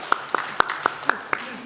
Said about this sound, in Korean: 박수 쳐서도 됩니다.